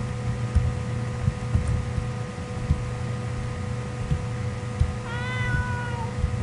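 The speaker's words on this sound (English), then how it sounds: "There goes cat." A cat meows once in the video game Ib, a single drawn-out, slightly falling cry near the end, heard over a steady low game hum with faint thumps.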